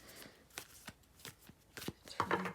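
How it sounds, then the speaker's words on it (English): A deck of tarot cards is shuffled by hand in a quiet room, giving a run of short soft riffling bursts and taps that end in a brisk flurry. "These are so hard to shuffle."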